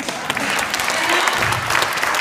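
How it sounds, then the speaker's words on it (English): Audience members clap for themselves at a gathering, a loud, dense burst of applause that fills the short stretch without pause. "And now clap for yourselves."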